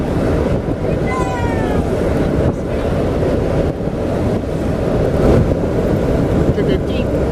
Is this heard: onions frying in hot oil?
no